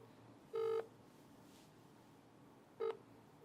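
Telephone dialing tones for placing a call during a live broadcast: two separate DTMF beeps, the first held longer, the second short, clear over a quiet room hum.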